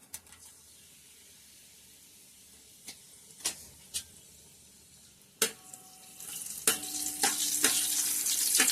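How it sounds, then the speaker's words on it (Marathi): Bay leaf and onion land in hot oil in a pot for a Konkan-style chicken dish. Sharp clatters and stirring knocks come first, then the sizzle swells into a loud, steady frying hiss. "तर तेल जरा गरम झाल्याच्या नंतर आपण त्याच्यामध्ये तमालपत्र घालून घेतलो आणि कांदो."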